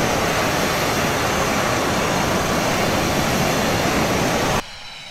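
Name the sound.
aircraft jet engines shutting down in Prepar3D flight simulator video game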